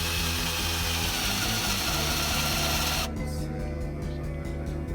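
A power drill fitted with a 22mm Forstner bit bores a hole, giving a loud, close, steady whirring grind with rhythmic pulsing that turns quieter and thinner partway through.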